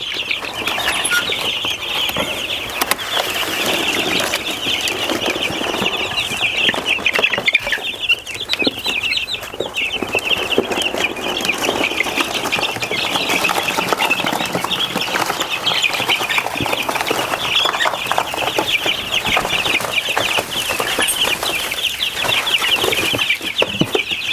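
Black Australorp and Cornish cross chickens cluck and chirp continuously at close range, a busy overlapping flock chatter that holds steady for the whole stretch with occasional faint rustling.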